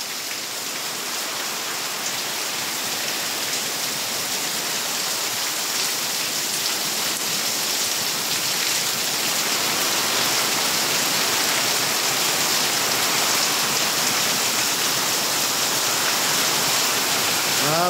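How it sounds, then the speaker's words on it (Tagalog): Heavy rain pours steadily and densely throughout, a continuous loud hiss of drops with no voices. "Bigla naman yatang napakalakas ng ulan."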